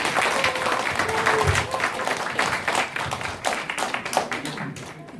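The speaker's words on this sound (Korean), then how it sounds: "그럼 건축사님 큰 박수로 맞이해 주셨으면 감사하겠습니다" An audience at a neighbourhood design forum breaks into sustained applause to welcome an architect to the stage, a dense patter of many hands that stays fairly even before thinning slightly toward the end.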